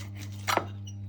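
A knife slices through a juicy steak cooked in a frying pan, giving one brief soft squelching cut that stands alone over a steady low background hum.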